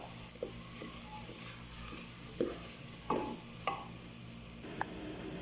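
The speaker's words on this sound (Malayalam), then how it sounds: "ചെറിയ അരി ഇങ്ങനെ പൊട്ടുമല്ലോ അതുവരെ ഒന്ന് വറുക്കുക" Rice roasting in a pan for ghee rice gives a quiet, low sizzle, broken by several sharp scrapes and knocks of a stirring spoon against the pan, with no voices.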